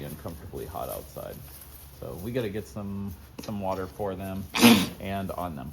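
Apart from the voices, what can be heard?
sneeze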